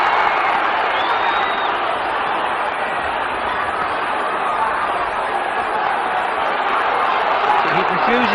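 Dense, roaring boxing crowd at White Hart Lane cheering and shouting continuously through a title fight, loud and sustained with whoops rising above the general din and no clear break.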